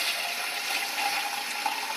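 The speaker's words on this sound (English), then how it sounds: "we're going to have some tap water straight from the well" Well water running from a tap in Thailand and being poured, a steady, close, unbroken rush of flowing water with no voices.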